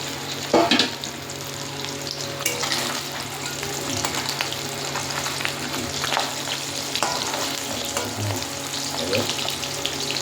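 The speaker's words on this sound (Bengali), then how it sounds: "সুন্দরভাবে মাছগুলো ভেজে নিতে হবে।" Pabda fish frying in hot oil, a steady dense sizzle with crackling spatters throughout, close and fairly loud, with occasional clinks of stirring and no talk.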